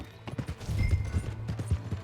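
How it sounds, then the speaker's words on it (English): Horse hooves clip-clop in the Red Dead Redemption 2 video game, a quick irregular run of hoof strikes close by with light ambient background, no speech. "Hey, that's my horse!"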